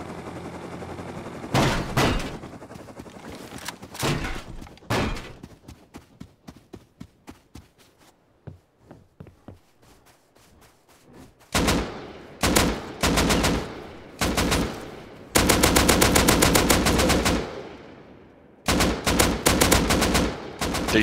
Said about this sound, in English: Are the turrets still shooting at you, or just these stupid guys?